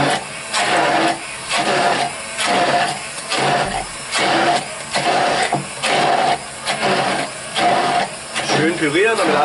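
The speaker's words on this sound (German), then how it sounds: "mein kleiner Helfer, der Pürierstab, macht jetzt den Rest." An immersion blender purees avocado pasta sauce in loud, close whirring bursts that pulse on and off roughly every second, with a person talking over the motor.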